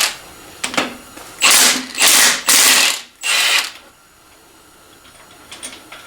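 Ratchet wrench working 11/16 cylinder head bolts loose on a Foxbody Mustang 5.0 V8, four loud close bursts of rapid clicking separated by short pauses, with faint handling noises around them.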